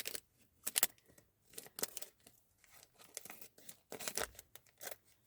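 Paper bag being cut and crinkled by hand, with several separate bursts of sharp snipping and rustling broken by short quiet gaps, close and fairly quiet.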